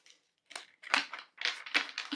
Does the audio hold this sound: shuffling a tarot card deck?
yes